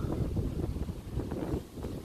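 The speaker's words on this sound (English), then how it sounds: "It's windy today" Wind blows outdoors on a gusty day, buffeting a handheld action camera microphone with steady low rumbling noise that dips briefly before returning.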